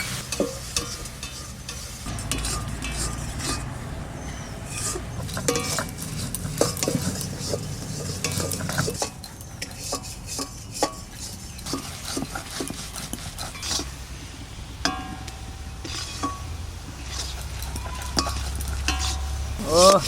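Food is stirred in a pan over the heat in a home kitchen, with continuous scraping and sizzling, scattered clinks of utensils and cookware, and background noise throughout, some of it faint talk.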